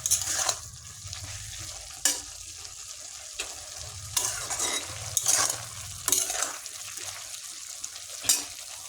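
Leafy saag greens, tossed with a ground paste of mustard, poppy seed, coconut and green chilli, sizzle steadily in a pan while a spatula scrapes and stirs in repeated sharp strokes, close and clear with no talk.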